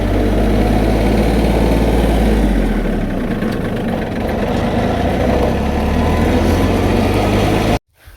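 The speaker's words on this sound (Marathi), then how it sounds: "आणि मळ्यात जायच्या आधी कोबरी काकांचं ट्रॅक्टर घालून ट्रॉली वाटलेलं." A tractor with a trolley hitched behind it idles close by on a farm. It makes a loud, steady low rumble that holds constant and then cuts off abruptly at the very end. No one speaks.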